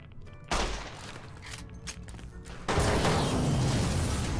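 Gunfire in the video game Fallout New Vegas: a burst of rapid shots and mechanical clatter kicks in suddenly, then a louder dense barrage of firing takes over, close and harsh with no talk.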